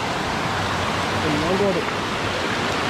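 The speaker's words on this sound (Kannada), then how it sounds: "ಇಲ್ಲಿದೆ ನೋಡಿ, ಹೀಗೆ ಬರುತ್ತಲ್ಲ ನೀರು" A waterfall in the Sirsi-Siddapur area gives off a steady, dense rushing roar that fills the whole scene, with a voice briefly heard over it.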